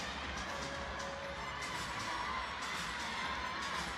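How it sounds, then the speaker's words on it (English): A large crowd at a women's singles table tennis match in Singapore's Infinity Arena cheers and shouts continuously, a dense, steady roar of voices with scattered whoops throughout. "The crowd absolutely relishing what they're seeing here in the Infinity Arena."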